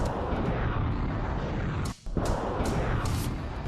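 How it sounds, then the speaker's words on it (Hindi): Artillery fires in Krasnoarmeysk, eastern Ukraine, producing a loud, dense rumble of booming blasts that runs almost continuously, broken by one short pause before the roar resumes. "तोपखाने दनादन आग उगल रहे"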